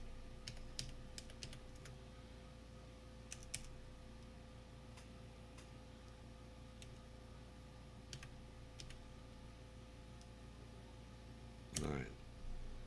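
Typing on a computer keyboard that has no indicator light: scattered clusters of crisp key clicks against a steady background hum, then a short louder burst near the end.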